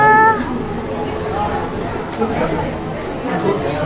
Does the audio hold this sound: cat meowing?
yes